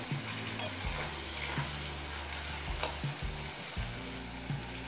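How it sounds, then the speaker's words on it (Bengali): Spices frying in a pan over low-medium flame, a steady dense sizzle with periodic scraping stirs and clinks, close and continuous with no talking. "সমস্ত মশলা দিয়ে মিনিট 5-6 লো মিডিয়াম ফ্লেমে কষিয়ে নিয়েছি।"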